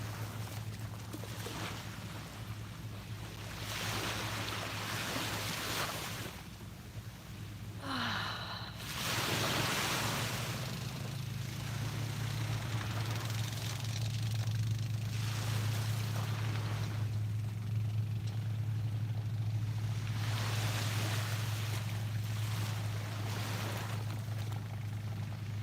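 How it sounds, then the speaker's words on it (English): Ocean waves rolling onto a beach at sunrise, a steady wash of surf with slow swells, heard at moderate distance under a low continuous hum. "soak in the colors and the sounds of the waves"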